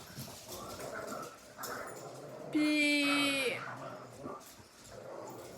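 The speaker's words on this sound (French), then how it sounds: "c'est mes chiens qui jouent" Dogs playing indoors let out a loud, drawn-out whimpering whine in the middle, with softer scuffling before and after, while someone speaks French over the sounds.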